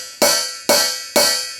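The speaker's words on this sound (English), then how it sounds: "I get more of what they call a trashy sound." Three evenly spaced strikes on a loosely held hi-hat give a bright, trashy, sizzling crash, each ringing briefly before the next, loud and close with no voice.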